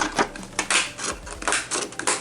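Small jagged-edged craft scissors snipping through paper scraps, a quick run of crisp, close cuts with short irregular bursts and brief pauses.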